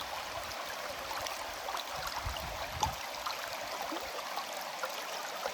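Water flowing steadily along a rocky forest stream at Mamanduru near Tirupati, a continuous broadband rush with a few soft gurgles and splashes, no talking.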